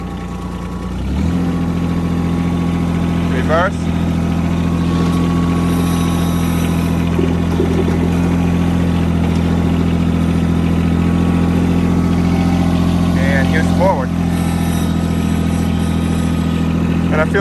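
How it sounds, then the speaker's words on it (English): A John Deere 318 garden tractor, converted to foot pedal hydro control, drives around a yard with its engine droning loud and steady from start to finish, nearby and close-up. "now I'll just drive it around the yard a little bit so you can see how it works"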